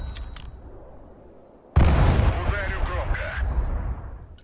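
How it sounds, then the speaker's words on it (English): A loud, close artillery blast erupts suddenly in the multiplayer strategy game Broken Arrow, followed by a rumbling roar and scattered battlefield noise, with faint crackling gunfire beforehand. "Where the fuck's that artillery firing from?"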